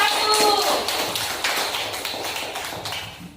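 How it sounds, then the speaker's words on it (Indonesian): Classroom applause for group 1, a loud burst of many hands clapping quickly and unevenly that gradually thins out, with children's voices mixed in. "Tepuk tangannya untuk kelompok 1"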